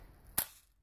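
A single sharp BB gun shot fired at an old laptop, a brief crack standing out alone against near silence.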